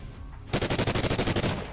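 Rapid automatic gunfire from a video game, a sustained burst of about a dozen evenly spaced, loud, close shots that starts abruptly and runs to the end.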